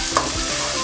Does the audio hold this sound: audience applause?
no